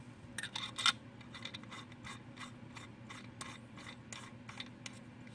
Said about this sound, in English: Once you get those threads started, they do feel pretty good. We tighten that up.